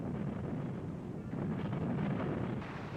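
Powerful wind from a nuclear blast roars steadily at high speed, a dense, broadband rushing gust that swells slightly midway and holds loud throughout with no voices.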